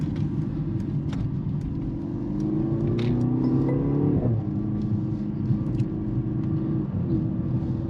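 A Mercedes-AMG SUV driving and cornering in Sport Plus mode, its engine giving a steady, loud, rumbling drone that swells as it revs, heard from inside the cabin with no talking.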